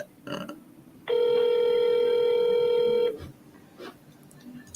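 A telephone rings with one long, steady electronic tone of about two seconds before a voicemail greeting answers, clear and prominent over faint background noise.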